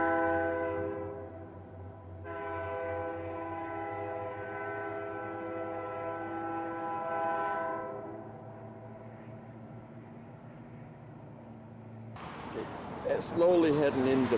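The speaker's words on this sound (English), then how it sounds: "Oh, it's the sound of a train approaching." A train near Banff, Alberta sounds a long, loud, steady horn blast, pauses briefly, then blasts again at length before fading, with a person speaking near the end.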